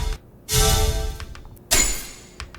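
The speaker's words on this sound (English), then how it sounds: "Then we have another metal hit just pitched down with chroma." Two bright, ringing metallic impacts with a deep, lowered tone, each hitting hard and then decaying over about a second, with a few faint ticks after.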